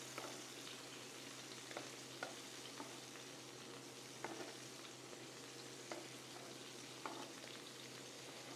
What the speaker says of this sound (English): You're going to get a little bit of a splatter because the fat and the liquid are going to pop off.